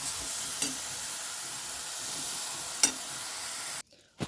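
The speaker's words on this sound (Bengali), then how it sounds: "দেখো আমি এটা একটুখানি নাড়িয়ে নিলাম বাটারটা মিশিয়ে নিলাম" Butter is stirred into a spinach and prawn curry in a pan, giving a steady hiss of frying with a few faint scrapes and one sharper clink before the sound abruptly cuts off.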